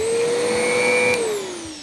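A Riccar Tandem Air vacuum cleaner runs close by in carpet mode with a steady, loud motor whine and a high airflow hiss, and its pitch dips slightly near the end.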